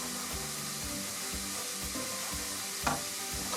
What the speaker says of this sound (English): give my vegetables a stir, make sure they're not burning